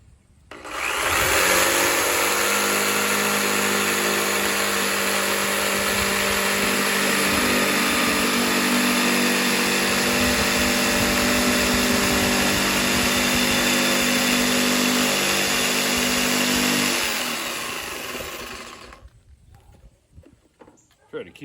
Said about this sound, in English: I'm going to use my jigsaw with just regular wood blade on there.